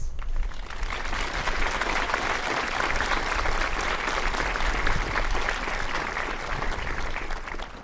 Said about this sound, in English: Let's give a round of applause to all these wonderful pedagogues